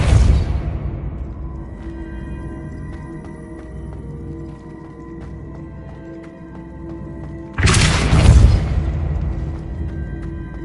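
Depulso spell cast in the video game Hogwarts Legacy: a loud burst at the start fades into a humming game backdrop, then a second broad whooshing blast rises near the end and lingers.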